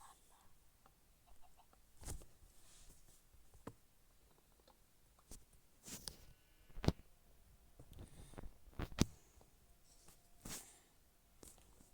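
Scattered short clucks and sharp clicky pecking sounds of chickens in Minecraft repeat irregularly over a soft, steady hiss, faint and somewhat distant.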